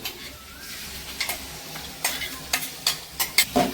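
Ground coconut going into a sautéing jackfruit seed mix in a pan, a soft sizzle broken by a run of sharp spoon scrapes and clinks that quicken toward the end.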